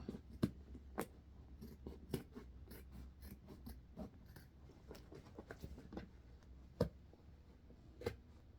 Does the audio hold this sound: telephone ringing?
no